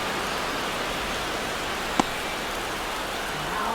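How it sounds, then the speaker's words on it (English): Steady rain hisses evenly throughout a baseball video game between the Cleveland Guardians and Baltimore Orioles, a broad, constant wash of noise with one brief click near the middle. "It feels like we might be headed towards a rain delay if the weather doesn't ease up"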